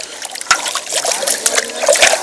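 Water is poured by hand, trickling and splattering unevenly up close in a brief run of small splashes.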